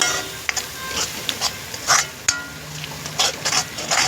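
A spoon stirs a masala gravy in a pan with a mutton and country chicken dish, giving scattered scraping and clinking taps over a soft sizzle, close and with no talk.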